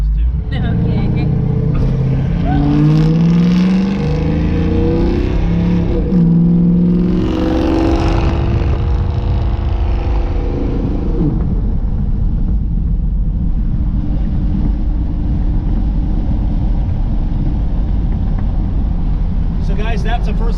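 A Chevelle's engine revs and accelerates on its first short drive, a low rumble climbing in pitch, then settling into a steady drone from inside the car.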